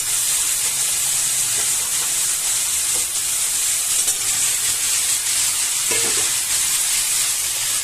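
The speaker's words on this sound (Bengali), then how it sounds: "মশলাটা কষা হয়ে গেছে প্রায় এবার আমি আলুটা দিয়ে দেবো" Potatoes go into frying masala for a snail curry, with a loud steady sizzle and hiss of oil throughout and a few soft stirring knocks, and no voices.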